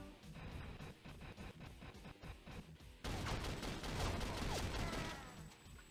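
Rocket fire in the Soldat game, a dense stream of repeated launches and blasts that swells into a louder, continuous barrage of explosions halfway through, with no talk.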